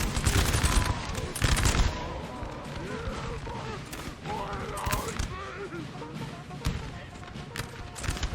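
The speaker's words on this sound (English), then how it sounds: "These guys are not going to take another volley of artillery." Napoleon Total War battle: musket volleys crackle in dense bursts alongside deep booms of artillery fire, a busy, continuous din of gunfire with faint voices mixed in.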